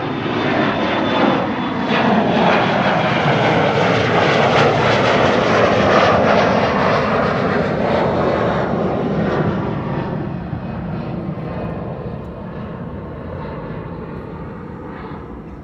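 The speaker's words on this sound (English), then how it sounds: "There's the United 767 that has arrived on the scene." A United Boeing 767 jet airliner arrives at Amsterdam Schiphol, a loud broad engine roar swelling to a peak then slowly fading as it passes, no voices.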